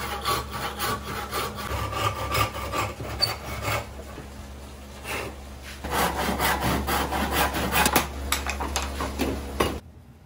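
A hard point tenon saw cuts wood by hand while making a bench, giving rapid, rhythmic rasping strokes close up, with a short pause midway before the sawing resumes.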